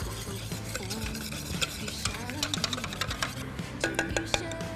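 Sauce is stirred in a pan, heard as a busy run of spoon scrapes and soft clinks against metal over a faint simmer, fairly quiet and close, with a brief voice murmuring in the background.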